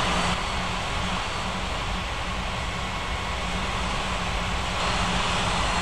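Airplane taxiing at a regional airport, a steady broad engine roar and rumble holding at constant loudness throughout, fairly close, with no voices.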